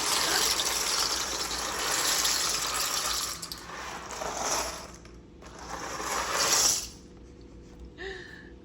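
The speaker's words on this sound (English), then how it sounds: "the pasta is draining." Pasta drains in a kitchen, a steady rushing pour of water that swells and tapers off, then ends in quieter clinks, no talk.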